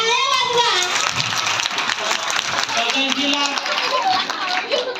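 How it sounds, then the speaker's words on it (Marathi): An audience at a community jayanti celebration claps, many hands rattling steadily for several seconds, while voices and chatter, including children, carry over the applause. "टाळ्या वाजवा"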